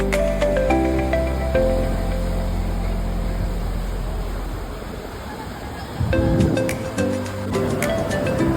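Small waves wash onto the sand at Marina Beach with a continuous roar of surf, while low tonal hums from a passing boat come and go over the water.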